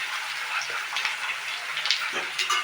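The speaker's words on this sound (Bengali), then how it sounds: "পেঁয়াজগুলো লাল লাল করে বাদামি কালারের ভাজা হবে" Chopped onions fry in hot oil with a little sugar, a steady close sizzle with faint bubbling and small crackles throughout, no talking.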